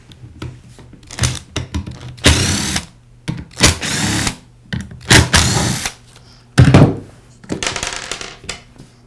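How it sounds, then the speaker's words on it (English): A power screwdriver or drill backing out three screws from a Porter Cable sander pad, several short whirring bursts separated by pauses, with small clicks and handling noises in between, close and fairly loud. "I'll begin by removing the 3 screws that secure the sander pad to the sander."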